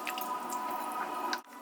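Wet food is stirred in a container, producing soft close squishing and dripping sounds with a few light clicks and a brief pause near the end, no voices.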